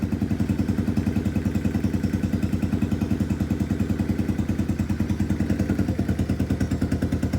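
A KP Mini 150 motorcycle engine with an aftermarket exhaust idles cold close by with a steady, rapid, loping putter from a loud, throaty exhaust, running alone without talk.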